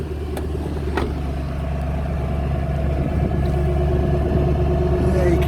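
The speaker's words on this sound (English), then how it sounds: "There you can hear that lovely V8 burble on stock exhausts." A Ford Mustang V8 on stock exhausts idles close by with a deep, steady low burble, a few light clicks near the start, and the rumble swelling slightly toward the end.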